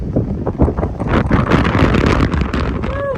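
Strong wind buffets the microphone during a motorcycle ride on mountain roads in Tenerife, a loud continuous roaring rush with gusty swells that runs for the whole short stretch, with nobody speaking.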